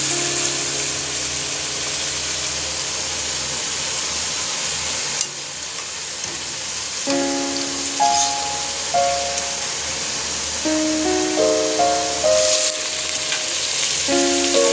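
Onions fry in a pan for keema karela with a steady, close, hissing sizzle that runs throughout, while a soft melodic tune plays underneath.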